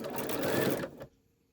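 A sewing machine stitches quilt pieces for a small whale block, a steady loud motor whir running for about a second before stopping abruptly into near silence.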